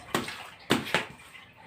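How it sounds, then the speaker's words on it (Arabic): Water splashes across a bathroom floor during washing in three short sloshing bursts, close by and moderately loud, with a quiet wet background between them. "شايفين الميه نازله بتجري"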